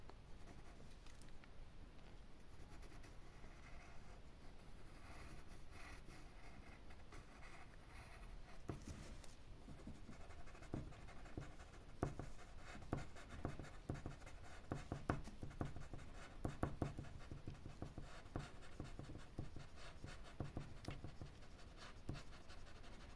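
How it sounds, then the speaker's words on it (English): A soft B pencil scratches and scribbles across paper while drawing a landscape of trees and buildings, a steady close, quiet rasp with denser, firmer strokes in the latter half. "B pencil."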